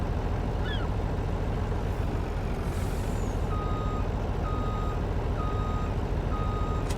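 A truck reversing with a trailer in Farming Simulator 19: a steady low engine rumble with a brief air-brake hiss, then evenly spaced reversing beeps that repeat clearly over the drone.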